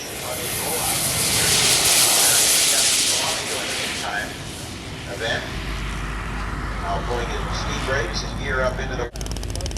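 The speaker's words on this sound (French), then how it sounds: "Terry Nitsch a donc opté pour un F-80 équipé d'un réacteur JPX." Model F-80 jet aircraft with a JPX turbine engine at a Top Gun 1997 scale jet competition, a loud steady jet roar and hiss that swells early then settles, with voices talking over it.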